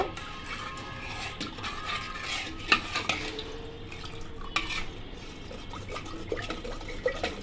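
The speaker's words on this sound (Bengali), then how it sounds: "সব দইগুলো ঢেলে দিচ্ছি ঢেলে দিয়ে কিন্তু আমি এখানে একটু ভালো করে নেড়ে ছেড়ে নেব" Yogurt is poured into a bowl and stirred, giving faint wet, liquid sounds with scattered light clinks and scrapes of a utensil against the dish, and no voices.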